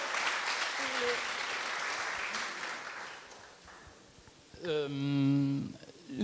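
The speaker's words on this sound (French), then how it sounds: "Vous pouvez l'applaudir" An audience at a French masterclass on communicating without greenwashing claps in a sustained round of applause for several seconds, then it fades and a brief tonal voice-like sound follows.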